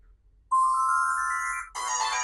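A bright synthetic tone swells and sustains, then snaps into a dense shimmering chime burst, a short electronic transition effect with no talking.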